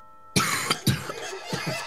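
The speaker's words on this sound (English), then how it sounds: "How do I stop coughing? Is there a way?" A person coughs repeatedly, four or five harsh, close coughs in quick succession after a brief quiet moment.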